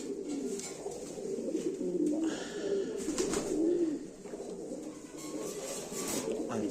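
Caged fancy pigeons, including American Fantails, coo softly and repeatedly in low, rolling phrases at a breeding loft in Bolpur, West Bengal, with faint background rustling.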